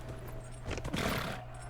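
Horse in the video game Dragon Age Inquisition, a short snort and whinny with a few hoof clops over a low steady game hum, loud and close.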